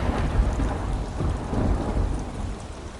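Heavy rain pours down in a dense, continuous roar with low rumbling thunder rolling underneath, loud and close with no voices.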